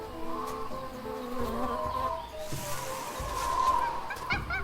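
A bee buzzes in the video game Tales of Monkey Island, a thin droning hum over soft layered game ambience and tonal music, steady and fairly quiet throughout.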